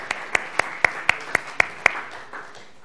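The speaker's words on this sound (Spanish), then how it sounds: "Cuando queráis, un aplauso." Audience applause at an international culinary entrepreneurs' forum during a sweet cooking session: a string of sharp, evenly spaced claps, fairly close, that thin out and fade after a couple of seconds.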